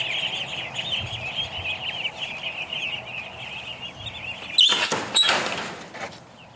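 Ducklings shut in an enclosure in a yard give a steady stream of high, thin peeping at close range, then a few loud clattering knocks and scrapes come near the end.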